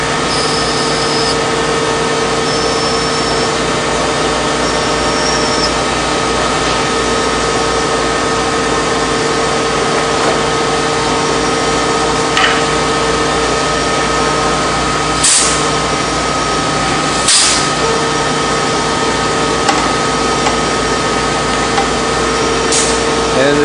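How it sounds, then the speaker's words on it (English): A lathe threading tool cuts internal threads in a pen barrel, a steady machine hum with a constant high whine, and a couple of brief ticks near the end. "here comes the threading tool to do the internal threads"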